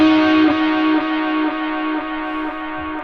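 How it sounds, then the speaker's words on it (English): Electric guitar played through a Positive Grid Spark amp with tape echo delay, each loud sustained chord repeating in regular fading echoes about every half second, alone without talk. "let's try the echo tape"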